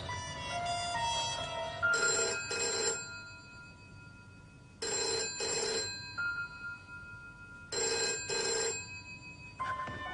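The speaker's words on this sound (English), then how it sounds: "I'm ringing Mum now." A telephone rings out while a call is placed, three evenly spaced pairs of electronic trills over a faint background tone, heard close and alone.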